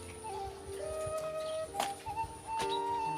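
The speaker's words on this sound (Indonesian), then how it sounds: "Burung uprit." An uprit bird calls in short, thin chirps and whistles across a quiet rural West Java setting near rice fields, faint and distant, with a couple of brief knocks and no speech.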